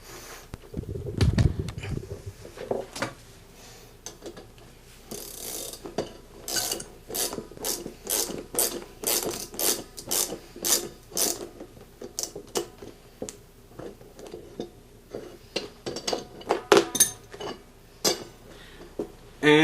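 A nut and washer are worked onto the threaded rod of a mirror ball mount, giving a close run of small metallic clicks and ratcheting taps, irregular at first and then fairly rhythmic.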